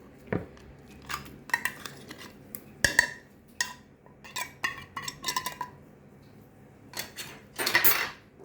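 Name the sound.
canned tuna in olive oil being added to the dish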